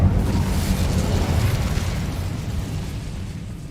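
The Incendio fire spell in Hogwarts Legacy bursts out as a loud, rushing roar of flame that fills the moment and slowly tapers off, with no talking.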